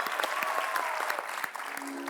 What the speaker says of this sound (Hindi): आप सबकी जोरदार तालियों के बीच इनवाइट करना चाहूंगा